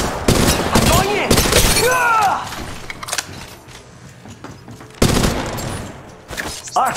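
Rapid gunfire fills a firefight in the video game Apex Legends Mobile: loud bursts and clustered shots close by, with mechanical clatter between them, then a fresh volley near the end.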